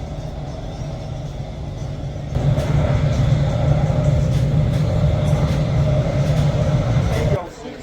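Interior rumble of a moving Israeli passenger train heading to the airport, a steady low roar that swells louder partway through and drops off near the end, with a person talking over it.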